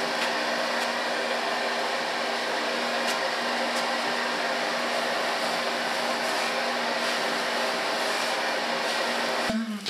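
A hair dryer blows steadily for the full stretch while long hair is styled into a black and white bob, a loud, even whoosh with a constant hum that cuts off sharply at the very end.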